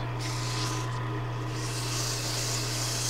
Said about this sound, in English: Now I can sand with 80 grit